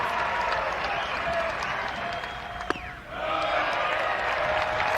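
A college baseball crowd at an NCAA regional game between East Carolina and Wake Forest applauds and cheers continuously, a broad wash of clapping and shouts that briefly dips then surges back, with a sharp pop partway through.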